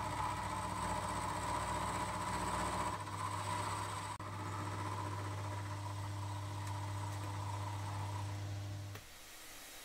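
Machine tool cutting a cast iron axlebox clamped in a machine vise: a steady, close hum with a strong low drone and a sustained tonal whine, continuing evenly before dropping off near the end.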